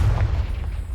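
A Confringo blasting spell explodes in the Hogwarts Legacy video game, a loud deep boom with a low rumble that fills the short moment and fades slightly, heard alone.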